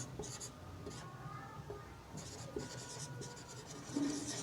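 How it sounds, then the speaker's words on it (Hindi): Chalk or marker scratching across a classroom board during a lecture, several short bursts of writing strokes with brief pauses, faint and close, with a quiet voice barely present underneath. "मैं ये लिख दूँ, यहाँ पे लिख देता हूँ"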